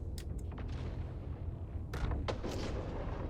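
Railgun shots in a video game space battle, fired at the ship Tiburon: several sharp, booming blasts, two early and a tighter cluster of three later, loud and close over a steady low rumble, with no voices.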